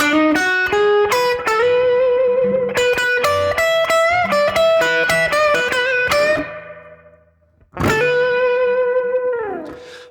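Electric guitar playing a slow blues lick in B, with bright bent and sustained notes through an effects unit, a brief fading pause, then a long held bend that slides down, loud and alone.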